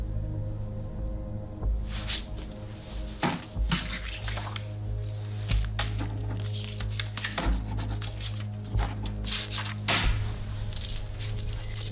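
Keys jangle and clink as they are handed over in an indoor scene, several short metallic rattles spread across the clip over a steady low background hum, with no talk.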